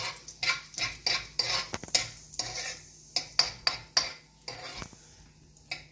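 Cumin seeds (jeera) warming in hot oil in a pan, with a rapid series of scraping, stirring strokes and utensil clinks over a light sizzle, close and fairly loud, no voices.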